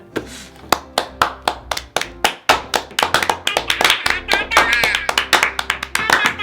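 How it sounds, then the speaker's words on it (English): A few people clap in a home for a Santa Claus ornament hung on a Christmas tree from an advent calendar, starting as separate sharp claps and picking up into a quicker, fuller patter close by, with voices chattering and exclaiming over it. "Let's put him on the tree and give him a round of applause."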